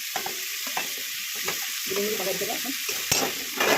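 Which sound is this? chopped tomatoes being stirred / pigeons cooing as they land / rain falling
chopped tomatoes being stirred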